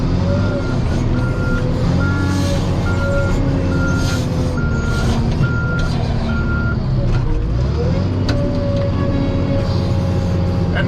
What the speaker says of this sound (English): the skidder started beeping on the inside, like a warning deal